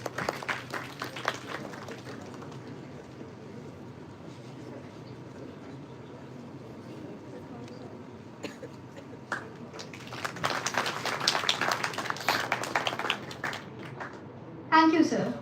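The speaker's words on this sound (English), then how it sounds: "please give them a warm round of applause" Audience applause at a university ceremony, starting as scattered clapping under talk and swelling into a fuller burst of claps partway through before fading.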